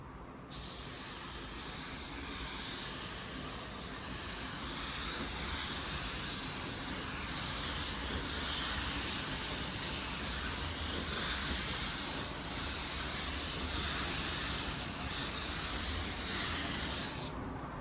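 A spray gun lays automotive clear coat in one long continuous hiss that holds steady and fairly loud for nearly the whole stretch, with no talking over it.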